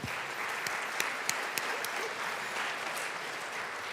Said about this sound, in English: Round of applause for all that name reading.